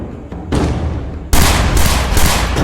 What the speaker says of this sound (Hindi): तभी ताबड़तोड़ गोलियां चलने लगती हैं।